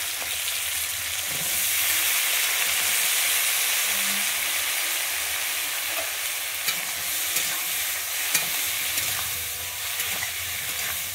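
Cut potato and eggplant fry in hot oil with onion in a pan, a dense continuous sizzle with soft stirring movements, loud and close, with nobody speaking.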